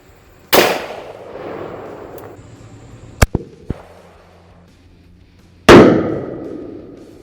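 A Smith & Wesson .44 Magnum revolver firing a 240-grain bullet at paper plates outdoors: two loud, sharp gunshots several seconds apart, each with a long trailing echo, and a few small metallic clicks between them.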